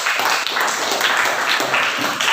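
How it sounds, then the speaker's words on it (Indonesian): Students in a classroom clap together in a dense, steady burst of applause, loud and close, with no voices over it. "Oke, terima kasih tepuk tangan untuk dia."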